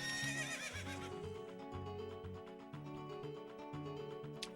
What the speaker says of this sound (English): She decides to neigh